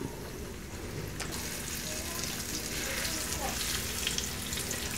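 Liver frying in a pan with onions gives a steady, moderately loud sizzle and crackle that holds continuously with no voices present.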